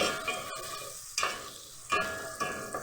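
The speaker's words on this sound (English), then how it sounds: "stir just a little bit" A spoon stirs rice with green peas and salt in a pot, giving a few distinct scraping strokes with soft sizzling in between, close and fairly quiet.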